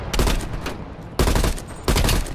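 Heavy automatic gunfire from a weapon in Call of Duty: Black Ops Cold War, loud and close, coming in three sustained bursts separated by brief gaps.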